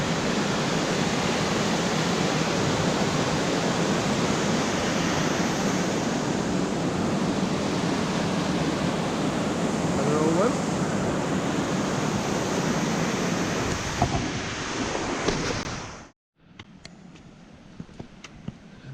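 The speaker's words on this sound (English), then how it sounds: "the sound of running water" Steady, full rushing of running water fills the scene, constant and close, then cuts off abruptly near the end, leaving quiet with faint rustles.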